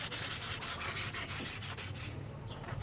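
An oxidized plastic car headlamp is sanded by hand in quick, regular back-and-forth strokes, a close, rhythmic rasping scrub that softens near the end, with no talking.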